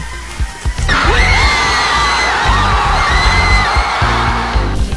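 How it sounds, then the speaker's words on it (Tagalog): Fans of the De La Salle Green Archers cheer and scream nonstop on Taft Avenue after a 71-69 basketball win over UST, a loud sustained crowd roar with whoops, yells and shrill shouting close by. "ang walang humpay na hiyawan ng mga taga-Lasal sa Taft Avenue"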